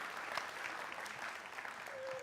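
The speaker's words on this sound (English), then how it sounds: "give them a round of applause" Steady applause from a crowd, soft and somewhat distant, clapping continuously without a break.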